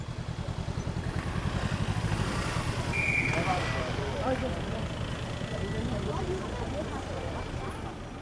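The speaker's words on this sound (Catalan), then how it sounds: "A aquestes hores el trànsit és intens a Barcelona." Busy city street traffic in Barcelona, with a nearby motorcycle or engine idling in a rhythmic low putter, passing vehicles and a brief brake hiss, and a voice speaking over it.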